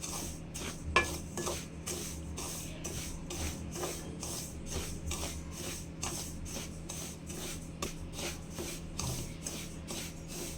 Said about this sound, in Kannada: ನಾನಿಲ್ಲಿ ರವೆ ಉಂಡೆ ಮಾಡೋದಕ್ಕೆ ಒಂದು ಅರ್ಧ kg ರವೆಯನ್ನು ಚೆನ್ನಾಗಿ ಹುರ್ಕೋತಾ ಇದ್ದೀನಿ